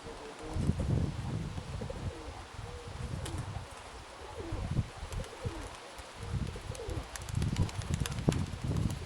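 Pigeons cooing on a gusty, windy day during a flock flight, low rolling coos repeating throughout at moderate distance over constant wind rumble.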